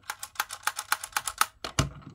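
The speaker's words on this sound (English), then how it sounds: "these switches do, they are really fun to do. Just a nice sound as well, like when you get them moving." A Transformers Animated Voyager Class Wreck-Gar toy figure gives a quick series of crisp plastic clicks as its switches are moved, about eight sharp evenly spaced snaps close up, ending with a slightly heavier click.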